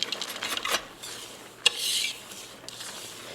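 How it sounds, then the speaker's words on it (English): A whisk stirs chopped nuts into a bowl of cookie dough, scraping and rattling against the bowl in uneven strokes, with one sharp clink partway through. "whisk those in"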